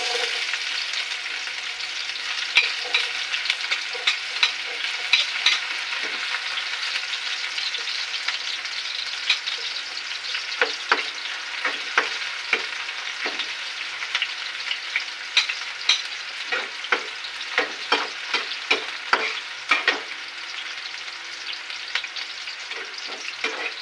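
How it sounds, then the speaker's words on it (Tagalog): Onions sautéing in a hot pan, a steady broad sizzle running throughout with frequent sharp crackles and spits from stirring, close and fairly loud, no talk. "Igisa ko yung sibuyas."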